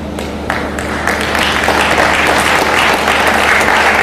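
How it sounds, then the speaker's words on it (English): Loud, sustained applause from a large audience after a speech, dense clapping that swells slightly and carries on throughout. "I thought the applause would be louder."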